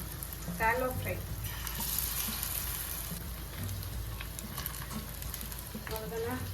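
Food pieces pressed into hot oil in a home kitchen hiss with a steady, close sizzle and occasional stirring, with a voice briefly audible near the start and end.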